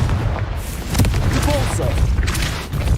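A Confringo fire spell explodes in Hogwarts Legacy on Xbox hard mode, loud booming blasts layered with deep rumble and crackling bursts, mixed with combat noise.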